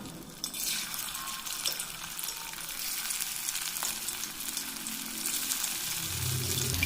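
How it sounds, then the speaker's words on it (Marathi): Kothimbir vadi, coriander fritters, fry in hot oil in a kadhai over a low flame, with a steady, even crackling sizzle throughout and no voices. "एक एक वडी तळून घेऊया."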